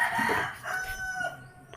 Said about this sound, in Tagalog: Pati pa yung mga manok nila diri bay.